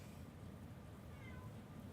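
A calico cat meows faintly and at a distance indoors, a soft brief call against low room hum.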